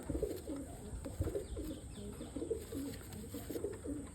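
Pigeons from a home-bred bloodline coo softly in repeated low, throaty phrases, quiet and close with a faint background hum.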